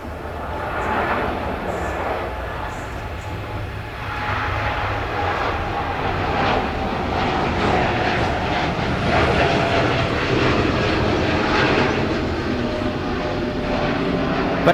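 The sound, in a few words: Korean Air Boeing 787-9 Dreamliner taking off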